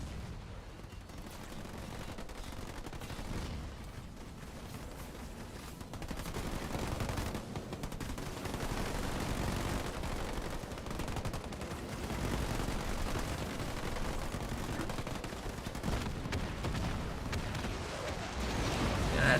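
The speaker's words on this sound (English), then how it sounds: "That turret's getting blasted pretty badly by the grenades." Dense, continuous battle noise from Halo Wars 2 as grenades pound a turret: overlapping blasts and rapid gunfire churn steadily for the whole stretch, loud and sustained with no clear pauses.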